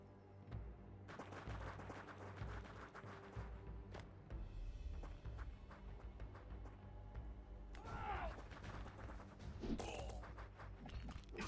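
Ranged missile units loosing a volley in the Fantasy General 2 strategy game, a dense clatter of impacts and thuds rolling across the battlefield, with sharper whooshing hits near the end.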